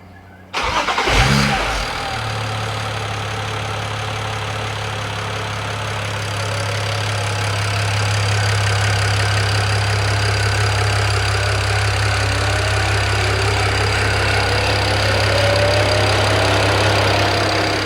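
A swapped engine in a BMW E92 335i cranks briefly, fires for its first start, then settles into a steady, loud idle close by that continues to the end without a break.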